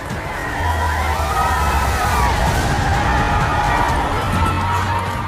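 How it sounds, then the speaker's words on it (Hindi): A large, roaring crowd of protesters fills the streets in Sri Lanka, a dense wash of shouting and cheering voices that stays loud and continuous throughout. "कहीं भीड़ उमड़ी है सड़कों पर सरकार के विरुद्ध।"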